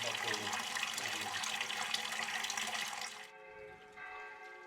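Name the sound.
water running from the fountain in Paternopoli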